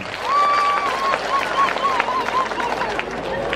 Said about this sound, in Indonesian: Tepuk tangan untuk pendeta Gilbert Lumindong.